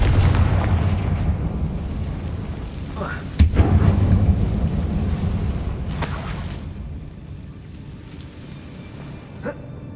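A Confringo fire spell from Hogwarts Legacy erupts in a mine as one sharp, loud blast followed by a deep, rumbling roar that slowly fades, with smaller cracks and thuds scattered after it.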